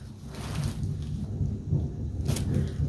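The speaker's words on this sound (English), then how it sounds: "can you guys hear the thunder outside?" Thunder rumbles low and steady outside during a storm, with a faint patter of rain over the sustained, muffled roll, heard from indoors at moderate distance.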